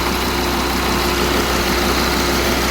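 A Jeep Grand Cherokee WJ engine idles steadily with a low, even hum and constant vibration, close and continuous, while power steering fluid is being bled, with no talking.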